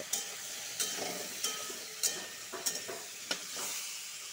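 Papaya pieces cooked with salt and turmeric sizzle softly in a pan. A spatula stirs them at a steady pace, and each scrape and clack against the metal sits close and clear over the low frying hiss, with no voices.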